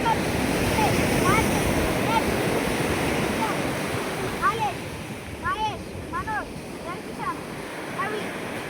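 Sea waves at Surathkal Beach in Mangalore wash in as a steady broadband roar with light wind, while a person talks and birds chirp faintly over the surf.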